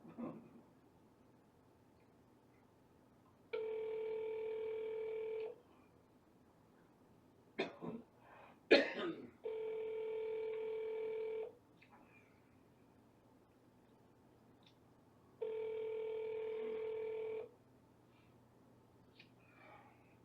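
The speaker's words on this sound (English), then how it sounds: "You have reached the phone of Edith Thompson" An outgoing phone call ringing before reaching voicemail at the Dayton, Ohio VA Medical Center: three long ringback tones spaced evenly about six seconds apart, fairly faint, with a cough and throat clearing between the first two.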